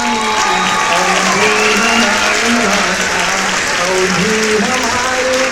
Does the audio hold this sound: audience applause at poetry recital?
yes